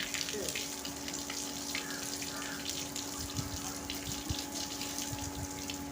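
Water runs steadily from a hose with a hissing spray onto garden plants, close by, with faint talk and a steady electrical hum in the background.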